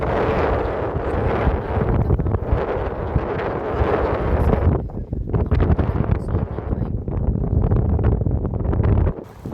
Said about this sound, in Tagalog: So naririnig niyo yung hangin guys